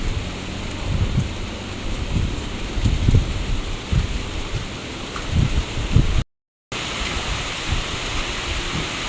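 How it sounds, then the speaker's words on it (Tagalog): Strong typhoon wind roars steadily with gusty low rumbles and rain-like hiss, a continuous storm outdoors with a brief cut in the middle. "Nalakas po ang hangin."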